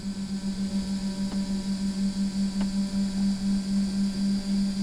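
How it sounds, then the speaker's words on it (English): A small cooling fan inside the electronic speed controller of a modified brushless RC boat hums steadily with a pulsing, close drone, joined by two faint clicks. "Well, that's a small fan that's turning, and that's how the ESC cools itself."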